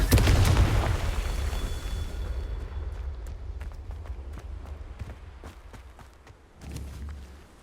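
A Confringo spell explodes in Hogwarts Legacy, opening with a loud, heavy low boom that decays into a long rumbling tail, followed by scattered light crackles and a second, softer thud near the end, with no talking.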